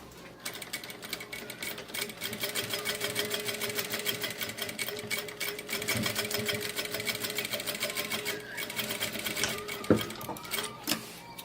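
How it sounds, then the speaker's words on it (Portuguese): A sewing machine stitches bias binding onto a fabric bag, its rapid needle chatter running in steady bursts close by, with a brief pause and a few clicks near the end. "vou passar uma costurinha e também vamos fazer o acabamento com viés"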